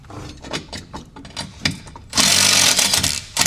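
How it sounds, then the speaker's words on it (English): A power driver tightens a thread-cutting bolt into the frame of a Polaris Ranger 1000. Light mechanical clicking comes first, then a loud, close, steady whir for over a second, ending in a brief final burst. "It is designed to thread cut into the frame, and we'll go ahead and tighten it down."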